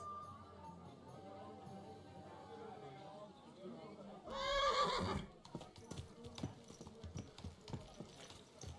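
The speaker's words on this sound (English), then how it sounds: "it's the horse I stole a million times on Henry" A horse whinnies loudly in a burst in a video game, followed by hoof clip-clops, over a quiet background of low chatter.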